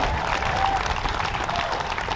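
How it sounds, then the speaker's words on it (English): Audience applause at the opening ceremony of the 41st Cornhusker State Games, a dense, steady wash of clapping from a crowd that holds at an even level for the whole stretch. "Round of applause for Angie Henry."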